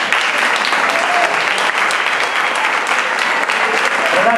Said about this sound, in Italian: si prende tutti gli applausi del pubblico